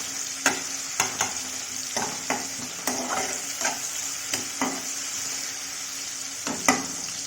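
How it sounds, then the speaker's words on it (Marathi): Tomatoes cook gently in a pan over low heat for shev bhaji, a soft continuous sizzle broken by a dozen or so sharp spatula taps and scrapes at an uneven pace, close and clear. "आपण त्याला थोडंसं मंद आचेवर टोमॅटोला शिजवून घेणार आहोत"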